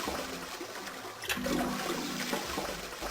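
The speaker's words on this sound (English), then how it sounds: "I heard a loud flushing noise." A toilet flushes in the Nonary Games video game, a steady rushing, gurgling swirl of water that fills the whole stretch at moderate loudness, with no voices over it.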